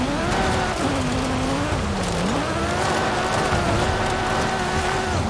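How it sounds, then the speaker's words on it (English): A game car drifts through a corner on the e-brake, its tires squealing in a long wavering whine over a steady engine roar, loud and continuous throughout. "Whipping it in here, rip the E-brake."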